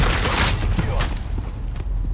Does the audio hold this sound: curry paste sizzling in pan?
no